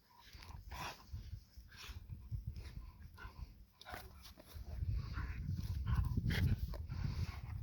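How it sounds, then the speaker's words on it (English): Two hound dogs wrestle on a homestead, with scuffling, panting and short growls and yips that grow louder and more continuous toward the end, close by with no talk. "Two vicious hound dogs wrestling on the homestead."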